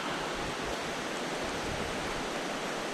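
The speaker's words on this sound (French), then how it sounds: "Et il pleut bien." Heavy thunderstorm rain pours down during the Euskal Trail mountain ultramarathon in May, a steady, dense hiss with no pauses, close and loud throughout, and no voices.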